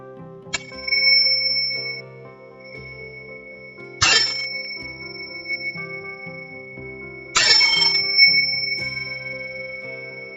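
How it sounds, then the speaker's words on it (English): Three chimes rung to close a yoga practice, each bright metallic strike ringing out with a long, slowly fading sustain over a soft tonal background. "I will close with the 3 chimes."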